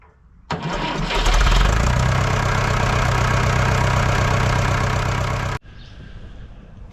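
A Fordson Major diesel tractor engine cranks and catches, then runs loud and steady with a chugging idle for several seconds before shutting off abruptly.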